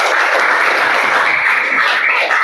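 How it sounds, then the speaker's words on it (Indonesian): Students in a classroom clapping together, a dense, loud burst of applause that holds steady for a couple of seconds. "Ya, tepuk tangan."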